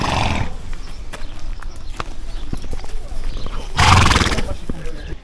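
Horses at a stunt show backstage neigh and stamp in a loud, busy outdoor scene, with a strong whinny-like burst near the end, under nearby chatter and ambient noise.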